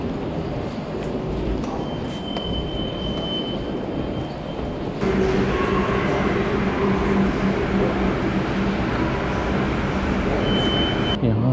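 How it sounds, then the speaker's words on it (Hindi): Vancouver SkyTrain rail transit, a steady broadband rumble of train and station noise that grows louder about halfway through, with faint tonal whines throughout and no clear talk. "अब चलते हैं स्काई ट्रेन की तरफ।"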